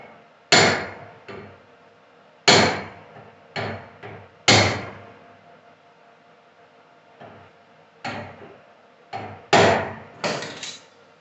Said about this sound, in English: I'll take the hammer and make it right